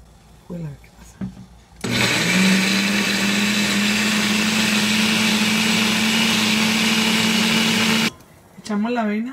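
A blender whirs loudly and steadily for about six seconds, blending water with ingredients for oat drink, starting and stopping abruptly, with brief talking before and after.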